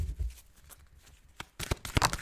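Tarot cards being shuffled during a reading, with soft riffling and rustling that builds into a louder burst of flicks and snaps near the end, close by.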